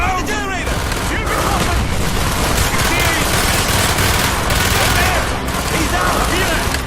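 Mortar fire and battle gunfire in the Call of Duty: Black Ops campaign, with dense, continuous bursts of shots and booms throughout and shouting voices mixed into the din.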